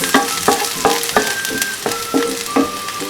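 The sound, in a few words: minced garlic frying in a pan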